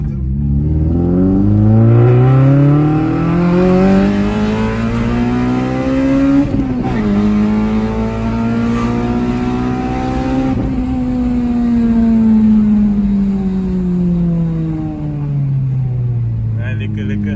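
Honda Type R FN2 with a K-series engine drives and revs nearby, its note rising and falling in long smooth sweeps through the gears, with voices talking over it throughout.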